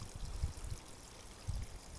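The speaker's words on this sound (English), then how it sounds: "Here is the entrance to where the spring gushes forth from the ground." Spring water gushes from the ground at an ancient stone well below an Iron Age hill fort in Brecon, a steady soft rushing and trickling with a couple of faint splashes.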